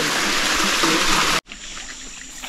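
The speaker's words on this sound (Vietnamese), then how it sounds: "Phía trên này là có nước, nước bé bé này đỡ ùn." A small forest stream trickles and splashes steadily close by, a broad watery hiss that drops abruptly midway to a quieter, softer flow.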